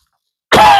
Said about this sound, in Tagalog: Inuubo ako dahil ako'y sinisipon ilang araw na din doon